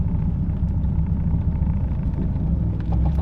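A Dodge Viper with a manual transmission rumbles at low revs as the driver gently gives it gas, a deep, steady engine drone heard close from inside the car.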